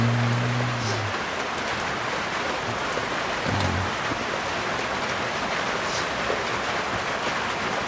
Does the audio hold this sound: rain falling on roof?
yes